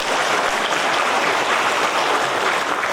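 An audience applauds at a provincial government year-end reflection event in Lampung, a dense, steady burst of clapping lasting a few seconds.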